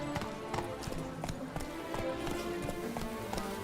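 Roach the horse gallops in The Witcher, hooves drumming in a quick, steady clip-clop rhythm close by, with faint game ambience beneath.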